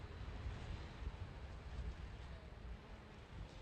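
Wind and rain drive sideways across an outdoor kart track near Italy's Adriatic coast, a steady, loud broadband roar of gusts and rain with no pauses and no voices.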